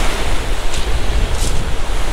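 Strong sea waves at Lobo, Batangas, a loud, close, continuous roar of crashing surf with wind buffeting the microphone, with no voices.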